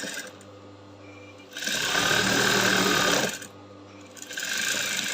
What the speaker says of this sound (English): I'll keep sewing right on the chalk line, sewing like that on the chalk line